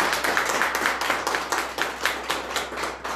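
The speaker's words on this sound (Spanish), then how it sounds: "Damos un fuerte aplauso a nuestro patrono." A congregation claps loudly for its patron saint, Saint Anthony of Padua, during a patronal feast Mass, steady rhythmic applause filling the church with dense overlapping claps from start to finish.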